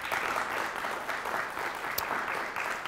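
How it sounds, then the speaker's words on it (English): Steady applause from a studio audience at a State Line Quiz Bowl game, a dense even wash of clapping with no voices, filling the whole stretch at moderate level. "how about a nice round of applause for the Auburn Knights?"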